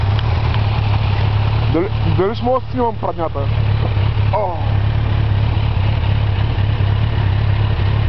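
A stopped motorcycle idles with its engine running hot, a steady low drone that continues unbroken beneath people talking nearby.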